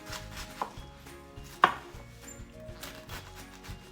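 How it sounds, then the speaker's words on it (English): A knife cuts through half a cabbage on a board in a home kitchen, giving a few distinct crunchy chops, one sharp and loud, over quiet background clatter. "And then I'm going to proceed to cut the other half."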